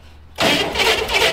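Snow Bombi engine cranking, starting abruptly after a brief quiet moment as a loud, steady broadband churning that holds for about a second.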